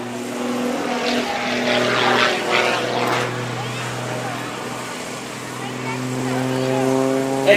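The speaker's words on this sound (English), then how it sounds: "Extra engine. It's a Thunderbolt engine and a custom prop," Extra aerobatic airplane with a Thunderbolt engine and custom propeller at an airshow, giving a steady loud droning hum with sustained tonal harmonics throughout, rising slightly near the end, with voices faintly underneath.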